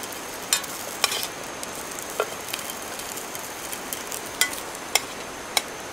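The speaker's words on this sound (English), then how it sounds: "Yeah, that's charring, so it's cooking too quick." Food frying in oil in a thin titanium frying pan over a campfire, charring as it cooks too fast: a steady low sizzle broken by sharp crackling pops, heard close with no talk.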